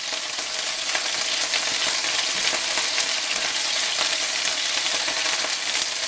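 Pieces of General Tao chicken sear in a frying pan, making a loud, continuous hissing sizzle that stays even and close throughout with no voices.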